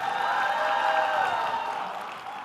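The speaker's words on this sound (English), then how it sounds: "Another round of applause for Ambassador Philip Tigo." Audience applause for Ambassador Philip Tigo at the Global Data Festival and Kenya Space Expo in Kenya, a steady wash of clapping from a crowd in a hall, fairly distant and fading slightly toward the end.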